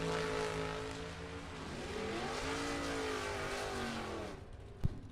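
Super Pro drag race cars, including a Camaro, roar off the starting line together in a sustained loud, rising engine howl that holds steady, then cuts off near the end with a sharp thump.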